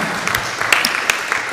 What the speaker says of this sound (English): Can we give a round of applause to these lovely ladies?